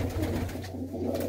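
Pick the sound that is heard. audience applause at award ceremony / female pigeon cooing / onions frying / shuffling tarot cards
female pigeon cooing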